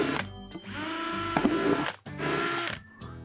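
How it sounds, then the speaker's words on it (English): A power drill boring drainage holes into the bottom of a plastic bucket, two close, loud whirring bursts separated by a short pause, with no talking. "I'm just going to drill some holes across the bottom for drainage"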